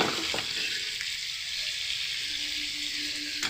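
Potatoes fry in a pan with a loud, steady sizzle, a close and continuous hiss with no voices over it.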